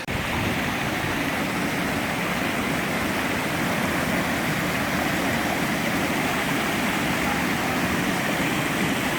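A waterfall on the Dartmoor moors roars as a steady, loud, continuous rush of falling water, broadband and unbroken throughout, with no voices.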